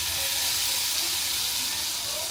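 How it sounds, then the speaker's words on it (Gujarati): Spices sizzle in hot oil for a tempering, a steady close-up hiss and crackle that holds at a constant level. "જેમ દાળનો વઘાર કરીએ ને એમ જ આનો વઘાર કરવાનો."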